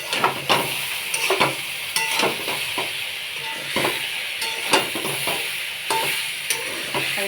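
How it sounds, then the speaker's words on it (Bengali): Mixed vegetables and green and red chillies sizzle in a pan for Bengali dal shukto, with loud, close scraping strokes of a stirring spoon coming every second or so over the steady frying hiss. "সবজি দিয়ে আরেকবার ভালো করে কষিয়ে নেব।"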